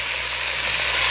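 Marinated chicken frying in masala over high heat for a dhaba-style chicken masala: a loud, steady, close sizzle with a low hum beneath it and no talking.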